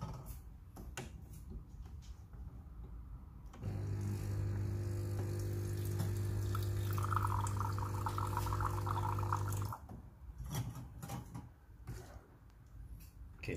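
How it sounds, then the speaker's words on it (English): Water runs steadily from an espresso machine, a Quick Mill Apollo Evo 060, to rinse out a cup, a continuous hiss and hum lasting about six seconds between quieter stretches of handling noise. "let me try to rinse out of the cup"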